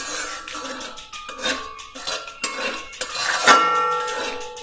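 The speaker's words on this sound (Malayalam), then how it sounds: "നല്ല രീതിയിൽ ഇളക്കിയെടുക്കുക" A spoon scrapes and clinks against a metal pot while mushroom biryani made with Kerala matta rice is stirred, with irregular close metallic knocks and scraping strokes and a brief ringing clink.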